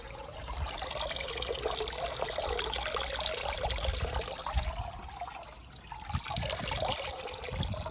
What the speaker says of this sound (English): Let's just see how quickly it drains.